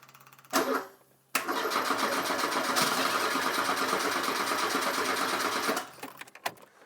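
Engine of a 1980s Gordini Turbo hot hatch, a barn find, being cranked over: a short starter burst, then about four and a half seconds of steady, loud, buzzy cranking that stops abruptly, with no clear catch.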